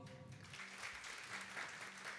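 Audience applause for a musician at a Sunday songwriters' gathering, a steady wash of clapping with a faint tonal hum underneath, moderately distant and continuous throughout.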